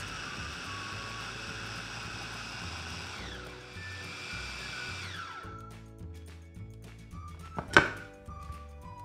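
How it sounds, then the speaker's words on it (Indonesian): A food chopper mincing raw chicken until fine whirs steadily, its motor pitch stepping down as it runs, with a sharp clack near the end. "sekarang kita chop dulu ya sampai halus"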